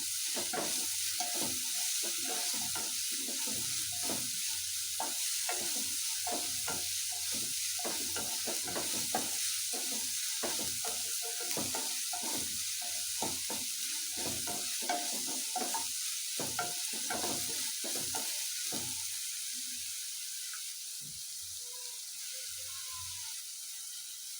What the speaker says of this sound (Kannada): ಈಗ ಸ್ವಲ್ಪ ಈರುಳ್ಳಿ ಎಲ್ಲ ಚೆನ್ನಾಗಿ ಫ್ರೈ ಆಗಿ ಮಸಾಲೆ ಎಲ್ಲ ರೆಡಿ ಆಗಬೇಕಲ್ಲ